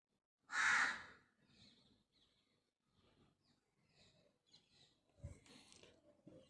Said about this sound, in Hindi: कौवे की क्रॉ।